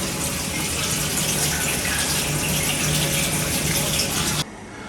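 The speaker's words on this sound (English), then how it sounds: "I'm just checking it's actually powerful enough to throw the water over all of the insides." A spinning spray head inside a home-brewing vessel throws water over the interior walls, making a steady hissing rush that cuts off abruptly near the end, leaving a quieter background.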